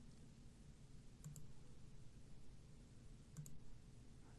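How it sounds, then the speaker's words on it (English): Two short computer mouse left clicks, spaced about two seconds apart, sound faintly over a steady low hum while points are placed in ACI Sketch drawing software. "I'm left clicking to place my points"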